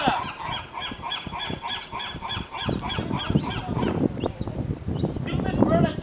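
Seagulls calling in a noisy flock while being fed bread, rapid overlapping squawks and cries, near and loud, with voices speaking now and then.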